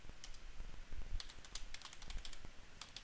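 A query being typed on a computer keyboard, with rapid, irregular key clicks over a constant low background hum, near and moderately quiet, no speech.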